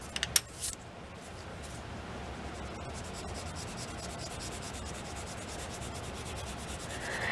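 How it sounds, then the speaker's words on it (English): An eraser rubbing over a spot on a crayon drawing, a few small taps at first, then a steady soft scrubbing that continues quietly to the end with no voice. "Oh, I got another little spot to erase."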